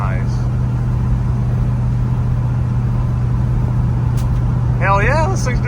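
A Dodge Dart with a torque-converter automatic cruises in overdrive, a steady low engine drone and road rumble running throughout while a voice speaks briefly near the end.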